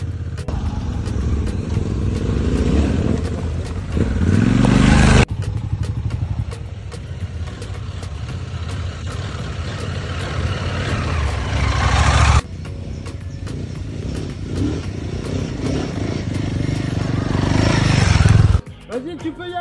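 A Himi 450 trail motorcycle engine under throttle on a motocross track, revving loudly and steadily with rising and falling pitch, cutting back briefly twice, while a coach shouts instructions over it.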